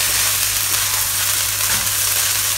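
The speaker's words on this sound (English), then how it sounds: "And one final mix." Pineapple fried rice with chicken and shrimp gets a final stir in a hot pan, a steady loud sizzle and hiss of frying rice throughout with no pauses.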